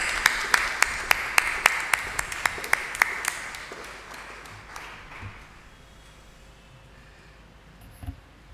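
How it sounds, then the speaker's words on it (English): A congregation at a church worship service gives a round of applause, with distinct rhythmic claps over a room-wide patter that dies away after about five seconds, leaving quiet room tone. "Shall we give them a round of applause?"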